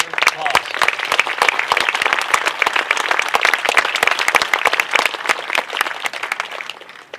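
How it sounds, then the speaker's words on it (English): A crowd at a City of Chula Vista heritage month event applauds steadily, dense clapping that continues for several seconds and tapers slightly near the end. "Give that a round of applause."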